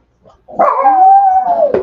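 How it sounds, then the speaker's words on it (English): A dog gives one loud, close, drawn-out bark that slides into a whining howl, standing alone with no talk over it. "Shut up, dog."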